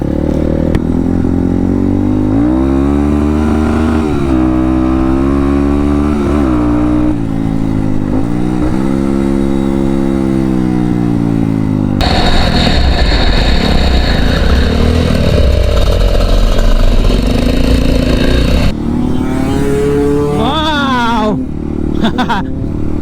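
A trail motorcycle with a loose, rattling exhaust revs hard and close, its engine pitch rising and falling in repeated sweeps, then gives way to rough clattering riding noise.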